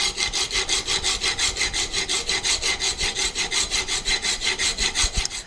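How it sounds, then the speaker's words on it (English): A plane iron's bevel is honed on a diamond stone with a Veritas MK II honing guide, giving a steady, rhythmic rasping scrape of about four back-and-forth strokes per second, close and fairly loud, with no talk. "I'm going to have to go back to my diamond stone, get the primary bevel all the way across there"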